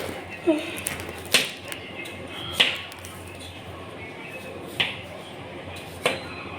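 A knife slices potatoes for a simple home-style potato curry, giving five or six sharp, separate cutting clicks at irregular intervals, moderately close over a steady low kitchen background.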